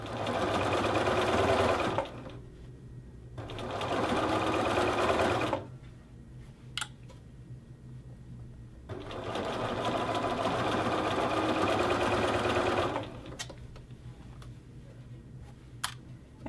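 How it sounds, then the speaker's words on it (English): A sewing machine stitches along a hoodie hem band in steady runs of dense whirring, stopping twice in between with a few small clicks during the pauses, close and loud. "you continue and sew all the way to the other side of the band"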